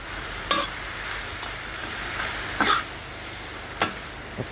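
Kan jong vegetables stir-fried in a pan, a steady low sizzle broken by a few sharp spatula scrapes spaced about a second apart, close and moderately loud.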